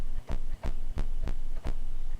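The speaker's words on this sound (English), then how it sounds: "sine wave and just bring it down 2 octaves." A synthesized sine-wave bass in Reason 6.5, pitched two octaves down, pulses as five deep humming notes in an even, throbbing rhythm, loud and alone.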